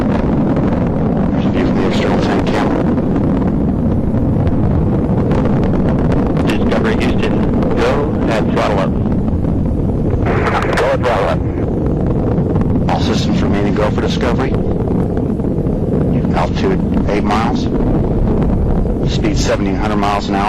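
Space Shuttle Discovery climbing away from Complex 39B at Kennedy Space Center, nearing supersonic speed: a constant, loud, broadband roar of rocket thrust with wind-like buffeting, heavy and unbroken for the whole stretch.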